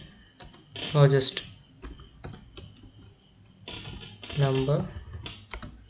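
Program code is typed on a computer keyboard, with light, irregular key clicks scattered between stretches of someone talking.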